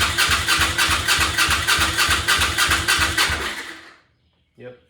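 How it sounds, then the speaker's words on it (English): A 1000cc kart engine is cranked over, its rhythmic chugging turning loud and close for several seconds before cutting off, followed by a brief faint sound. "I'm just gonna spin it over first and see what it does."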